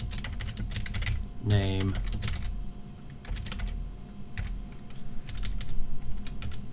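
Quick, irregular keystrokes on a computer keyboard as C++ code is typed, clicking in close bursts while someone speaks briefly over the typing.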